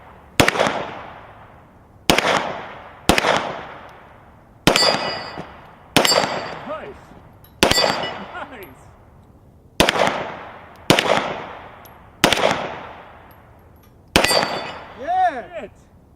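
Ten sharp gunshots ring out at irregular intervals as they hit a Texas Star steel shooting target. Each loud crack brings a metallic clang and a ringing decay, and the last hit leaves a wavering steel tone.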